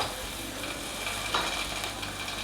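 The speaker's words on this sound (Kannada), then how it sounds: "ಬೆಂಡೆಕಾಯಿನ ಸ್ವಲ್ಪ ಫ್ರೈ ಮಾಡ್ಕೊಳ್ಳೋಣ" Okra frying in a little oil in a pan, a steady broadband sizzle running throughout at moderate level with no one talking.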